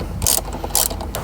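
Ratchet wrench tightening the screen mounting bolts on a 2012-2019 Lexus LS during a CarPlay upgrade install: two loud, close bursts of rapid clicking with a brief pause between, and no talk.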